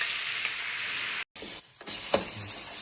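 Meat hits hot oil and rendered fat in a pan and sizzles loudly and steadily. After a brief cut, quieter hissing continues with a few stirring clinks.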